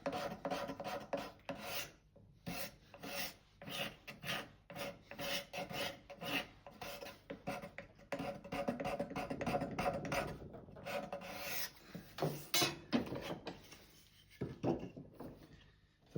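A scraper rasps across varnish and bare wood on an old wooden hand plane in repeated short strokes, each dry scratching pass separated by brief pauses, close and fairly quiet, no talking.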